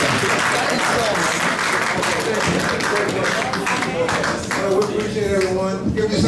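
Applause from the audience fills a conference hall closing a repatriation and investment event in Ghana, steady and close, with voices talking over the clapping throughout.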